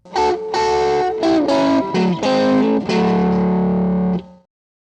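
Bluesy guitar lick of double stops harmonized in thirds, a short string of bent and slid two-note phrases with a slightly driven tone, ending in a held chord that rings out to silence.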